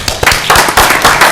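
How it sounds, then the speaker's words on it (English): Brief burst of audience applause at a town board meeting, several people clapping at once in a room, loud and close, lasting just over a second. "They deserve a very well-deserved round of applause."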